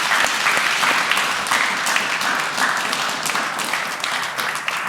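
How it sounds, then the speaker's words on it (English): Studio audience at a live podcast recording applauding, a thick, steady wash of clapping from many hands that holds loud and close throughout, with no talk on top. "I'll request a round of applause."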